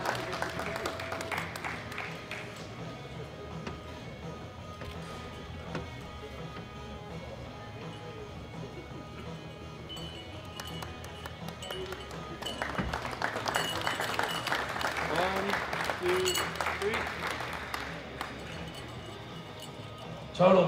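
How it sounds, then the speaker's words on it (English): Spectators at a world classic powerlifting championship applaud medal winners, with moderate crowd clapping and a hall announcer talking over it, growing louder toward the end. "Give him a round of applause."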